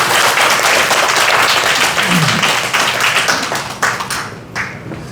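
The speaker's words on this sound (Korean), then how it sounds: "지금 이 자리는 없지만 주광덕 시장 힘내라고 박수 한번 쳐주세요." Crowd applause at a Korean political talk event in Namyangju, a loud dense burst of clapping from a gathered audience that stays strong, then thins and tapers off toward the end.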